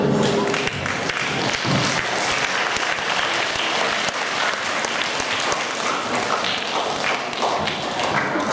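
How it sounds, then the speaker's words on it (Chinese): An audience at a primary school fifth-grade music recital applauds for a recorder ensemble, a dense, steady clapping of many hands that fills the room, close and continuous throughout. "我们掌声欢迎"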